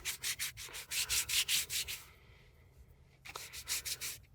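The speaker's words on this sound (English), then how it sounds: "I'm going to cover the entire back side of this leaf with this pan pastel color." A larger blending brush rubs pan pastel across a crepe paper leaf, making quick rhythmic scratchy strokes close by, a short pause, then another burst of brushing.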